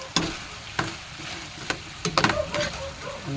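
Fried pork steak with calamansi is stirred in a pan, giving scattered utensil taps and scrapes over a soft, low sizzle, close up and with no talking.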